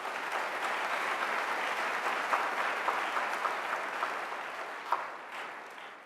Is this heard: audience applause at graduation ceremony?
yes